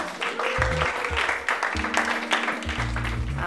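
Applause for brewing club members at a talk on beer culture; scattered clapping from a small audience with some low rumble underneath, fairly close and steady.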